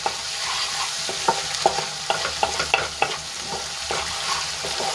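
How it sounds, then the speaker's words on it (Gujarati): Ginger, garlic and green chillies sizzle in hot oil in a pan for a Kathiyawadi drumstick kadhi tempering, a close, steady frying hiss broken by repeated scraping stirs at a regular pace, with no voices. "અડધી મિનિટ માટે સાંતળી લઈશું જેથી કરીને આદુ લસણ અને મરચાંની કચાશ દૂર થઈ જાય"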